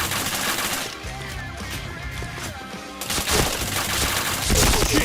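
Rapid automatic gunfire in a shooter video game, dense bursts of loud, close shots that ease slightly midway and then surge again, with game effects layered through the barrage.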